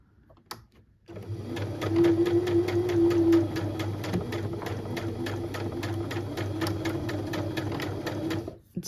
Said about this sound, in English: I'm just going to sew it anyway, just over the seam area.